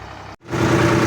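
A tractor engine runs steadily while pulling a newly bought plough through a field, cutting out for a split second and then returning louder and fuller, with a continuous mid-to-low drone.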